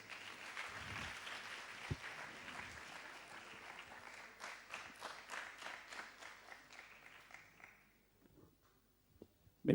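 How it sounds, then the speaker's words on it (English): An audience at a national science challenge semi-final claps for a school team from Sarawak. The applause is dense and sustained, then thins out and stops, leaving near silence before a clunk at the end. "Maybe one of the popular teams, so it's quite a loud clap there"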